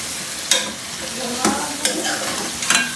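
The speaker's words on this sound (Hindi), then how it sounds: "अब हम इसके अंदर तकरीबन 3 बड़े साइज़ के प्याज कट किए हुए वो डालेंगे। अच्छी तरह मिक्स करेंगे।" Chopped onions stirred into mutton frying in a pan, with steady sizzling broken by four sharp scraping stirs of a spoon against the pot, close and clear with no talk.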